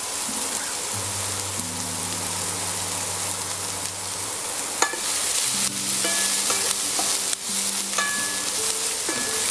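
Frozen vegetables fry in a hot pan as their water boils off, a loud, dense, rain-like sizzle running throughout, with a few utensil clicks and faint background tones.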